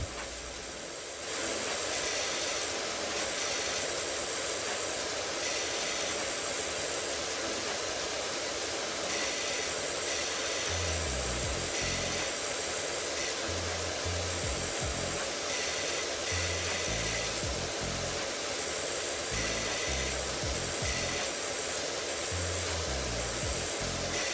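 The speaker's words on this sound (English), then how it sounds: "since I got an electric lawnmower, it's been much better" An electric lawnmower runs continuously during yard cleaning, a steady whirring hiss with a low motor drone that rises and falls as it moves, close and alone without talk.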